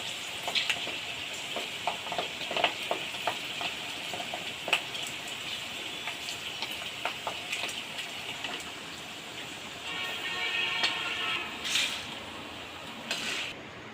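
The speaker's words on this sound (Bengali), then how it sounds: "গমগুলো আমি লাল লাল করে ভেজে নেব" Wheat grains fried in oil for laddu give a continuous sizzling hiss dotted with frequent small crackles and pops, steady and moderately close, with no voices.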